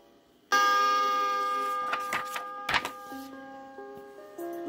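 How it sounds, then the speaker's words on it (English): A bright bell-like chime rings out on a 1979 storybook record to signal a page turn, its tones ringing and slowly fading, followed by a few soft clicks and a short melodic run of lower notes. "when you hear the chime, turn the page."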